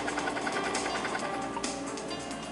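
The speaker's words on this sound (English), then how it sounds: "Set your overlock machine to the widest stitch and flat lock over the seam" An overlock serger sews a wide flatlock seam with a rapid, continuous mechanical chatter. It is close and steady for the whole stretch, with no speech.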